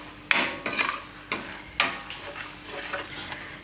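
Spices such as turmeric, coriander-cumin, red chilli and salt are stirred in a pan for a Gujarati potato dish, with a few sharp spoon scrapes and clinks against the metal, close and clear with no talking.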